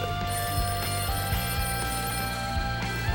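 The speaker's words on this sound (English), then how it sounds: "My phone's ringing." Telephone ringing with a continuous bright electronic tone that pulses steadily for several seconds, loud and close, with no voices over it.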